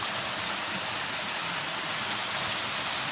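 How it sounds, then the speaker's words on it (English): A waterfall in Douglas County, Missouri cascades into a large pool, a steady, dense rushing hiss heard close and continuous, with no voices over it. "the water cascades down into this large pool area and flows down to the south in this creek bed"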